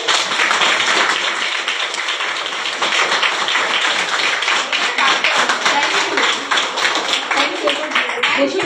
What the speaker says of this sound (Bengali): তাই সবাই আমরা জোরে ক্ল্যাপিং করবো।